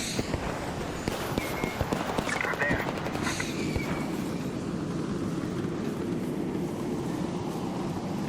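Gunfire in the video game Arc Raiders crackles in distant bursts over a steady rumbling ambience, with a player talking over it.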